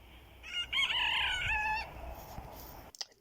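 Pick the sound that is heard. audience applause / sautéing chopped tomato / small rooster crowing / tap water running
small rooster crowing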